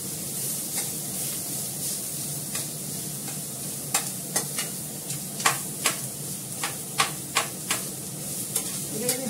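Onions, with carrots, fry in a pan for chow mein, giving a continuous bright sizzle, and a utensil stirs and scrapes through them in irregular sharp strokes, loud and close.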